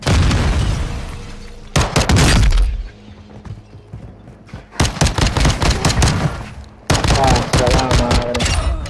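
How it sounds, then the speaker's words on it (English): Game combat in Warzone 2.0: loud bursts of close automatic gunfire come in three heavy rapid clusters, split by quieter gaps with low rumble, and a grenade blast booms among the volleys. "Throwing grenade!"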